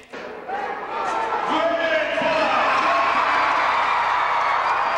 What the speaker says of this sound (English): The crowd cheering the king of the monster trucks, Bigfoot.